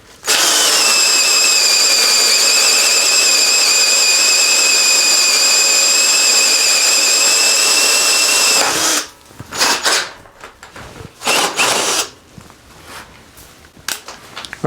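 A Ryobi 18-volt cordless drill/driver bores a hole at low speed with a steady, loud whine lasting about eight seconds, then stops, followed by scattered short bursts and handling noises.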